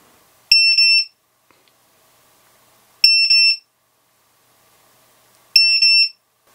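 A DroneKeeper Mini 2 drone finder alarm gives three loud, piercing beeps of about 90 decibels, each about half a second long, evenly spaced with quiet gaps between them.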